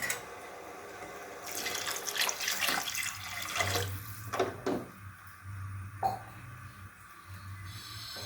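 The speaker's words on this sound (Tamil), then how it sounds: "தேவையான அளவுக்கு தண்ணியை சேர்த்துக்கிட்டு" Water runs from a tap into a pot of mutton curry, a splashing gush with brief stops and restarts, close and fairly loud.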